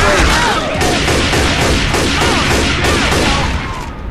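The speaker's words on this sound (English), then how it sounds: "Stop shooting, please, please." Dense, rapid gunfire from the video game Left 4 Dead 2 fills the clip, a loud continuous barrage of overlapping shots during the Truck Depot finale, fading slightly at the end.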